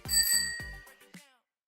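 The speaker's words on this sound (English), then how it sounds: "ring the bell." A bright bell rings twice in quick succession as a short, crisp sound effect, followed by a lighter final ding that fades into silence within about a second and a half.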